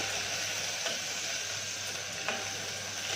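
Onions sauté in a pan for a paneer biryani, giving a steady close sizzle and frying hiss with faint stirring scrapes.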